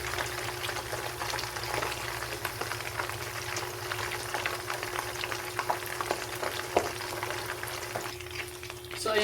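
Tilapia fish frying in a pan, a steady close sizzle and crackle of hot oil running throughout with small pops and spatters, no voices.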